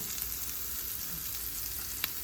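Butter sizzling steadily in a pan with mushrooms, rosemary and thyme, a constant hissing fry with a couple of brief sharper crackles near the end, no talking.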